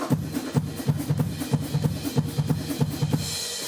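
Escaping-gorilla video game gameplay: a steady run of punchy percussive hits at a brisk, even rhythm over a low droning bed, moderately loud and with no voices.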